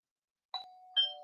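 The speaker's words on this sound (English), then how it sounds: "There's supposed to be a doorbell when you enter." A two-tone doorbell chimes as a guest comes in at a live Christmas party, two clear dings, each leaving a steady tone that rings on, with no voices.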